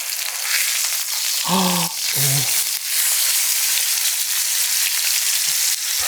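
Steak sizzles loudly and continuously in a cast iron pan just after being flipped, a dense, close crackle; a voice speaks briefly over it.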